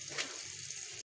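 Water pours steadily into an aquarium being refilled after its stones are rinsed, a brief close rush that cuts off abruptly.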